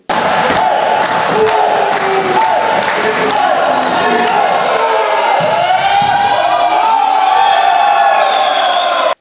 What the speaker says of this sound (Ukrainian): Присутні глядачі як могли підтримували своїх фаворитів оваціями та оплесками